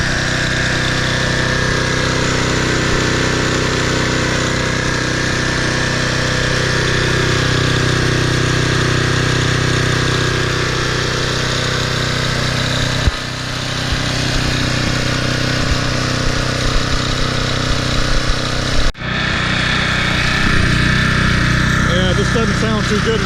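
A Toro Recycler Personal Pace 20333 walk-behind lawn mower from 2010 runs steadily and close, its small engine droning continuously and over-revving, with a brief cut in the sound near the end before it resumes.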